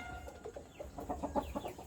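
Burmese chickens on a farm cluck in a quick run of soft, faint clucks close by, over low background noise.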